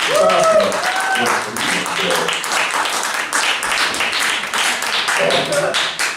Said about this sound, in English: Round of applause for AB.